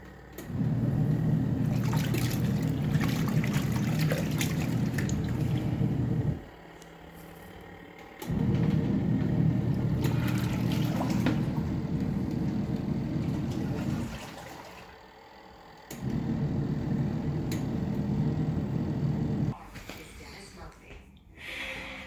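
A KUPPET 26 lb portable washing machine runs its wash cycle, a loud churning hum of agitating water that stops and restarts in long bursts separated by brief quiet pauses, with sloshing and trickling throughout.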